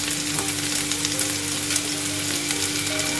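Chopped onion and chicken fry in a pan with a steady, dense sizzle that stays loud and close throughout, with no voices.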